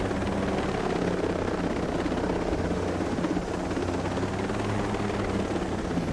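A helicopter in the video game Ghost Recon Breakpoint flies with a steady, loud rotor and engine drone that stays constant throughout, with no talk.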